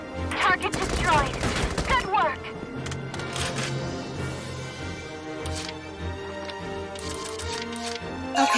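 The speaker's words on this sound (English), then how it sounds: "Keep firing! Eat lead!" Battlefield gunfire in the tactical game Valkyria Chronicles 4 at a sea fortress, quick crackling bursts up front under shouted voices and music, settling into a busy mix of combat noise.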